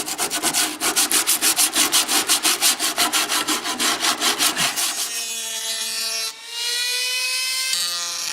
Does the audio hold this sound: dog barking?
no